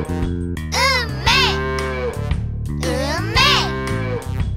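Sung moo of a cow in a children's animal-sounds song, drawn-out voice-like lowing calls repeated over a bright bouncy music backing; the moos appear to be sung or voiced imitations rather than a real animal.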